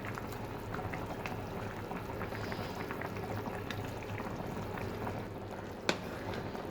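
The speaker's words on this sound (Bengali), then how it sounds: "বলক চলে আসছে" Broth boiling steadily in a cooking pot with fish head added, a continuous close bubbling simmer with one sharp clink near the end.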